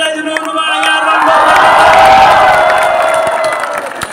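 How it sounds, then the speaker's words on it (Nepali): Large concert crowd in Damak cheering and clapping for the organising club, a loud swelling roar of shouts and whistles over dense applause, peaking midway and holding. "फेरि आजको आयोजक ध्रुव तारा क्लबलाई एकपल्ट जोरदार ताली बजाइदिनु हुनुभयो."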